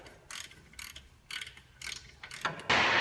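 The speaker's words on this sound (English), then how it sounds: "Start them with the ratchet." Ratchet clicking in short uneven bursts while brake caliper mounting bolts are started on a Chevy Tahoe, close and fairly quiet, ending in a louder rasping pass.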